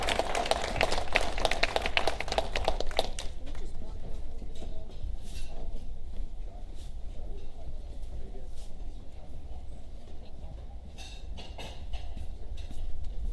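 Audience applause at a Bronx Irish American history event, starting as dense clapping for about three seconds and then thinning into scattered claps and room murmur.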